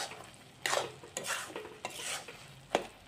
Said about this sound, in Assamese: আৰু এনেদৰে মই এটা হেতা দি লৰাই দি আছোঁ।